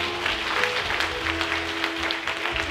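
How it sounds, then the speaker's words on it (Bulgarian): A church congregation claps steadily together in praise, dense continuous applause filling the room at moderate loudness. "Ай сега може да ръкопляскаме за Бога."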